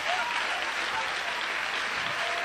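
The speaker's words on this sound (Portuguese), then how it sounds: "Aplausos para Ele" A church congregation applauds God during a sermon, giving a continuous, evenly dense wash of clapping that stays steady throughout, with a faint murmur of voices beneath it.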